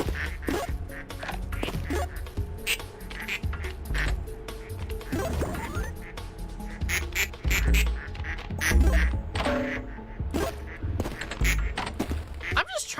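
Ducks in a video game quack in a busy, repeated chatter, overlapping honks filling the whole stretch amid other game noises and a talking voice.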